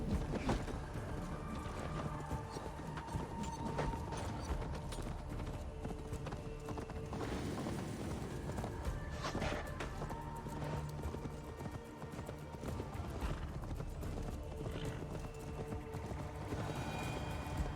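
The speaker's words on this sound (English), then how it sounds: "Just ran my horse into a bandit camp." A horse gallops in the video game Assassin's Creed Valhalla, with steady, dense hoofbeats driving on continuously under game ambience and no talk.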